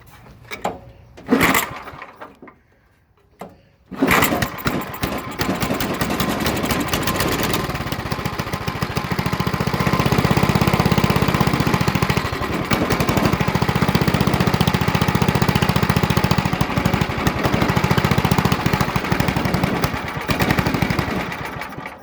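An old Briggs and Stratton/Tecumseh 4 hp small engine on half choke sputters, cuts out briefly, then catches and runs loud and rough with a rapid, uneven popping putter that lasts to the end.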